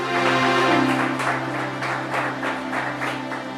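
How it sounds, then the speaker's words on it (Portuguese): A church congregation applauds Jesus at the close of a sermon, with steady clapping under sustained music or organ tones, and the crowd noise holds at an even level throughout. "Dê um aplauso a Jesus"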